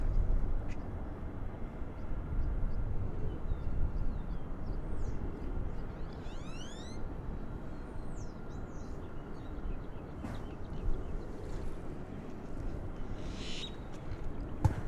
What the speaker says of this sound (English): I'm hearing some grackles there in the background.